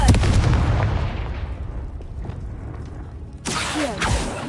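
A loud, booming blast from a Confringo spell in the Hogwarts Legacy video game, rumbling and decaying over a few seconds before a second burst of crackling impact noise.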